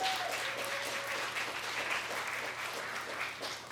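Steady crowd applause fills the whole stretch, a dense wash of many hands clapping at an even level with no voices standing out.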